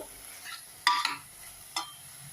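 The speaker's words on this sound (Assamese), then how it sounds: "ইফালে সিফালে কৰি ওপৰতল কৰি পেলাই লৰাই দিব" Onions frying in a pan for a simple chicken curry, stirred and turned with a spatula in a few distinct scraping strokes over a faint steady sizzle, quiet and without talk.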